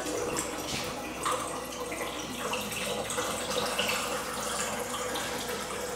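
Used color film developing chemistry being poured back into a film developing tank at home, a continuous close, splashy trickle of liquid that holds steady for several seconds with no talking.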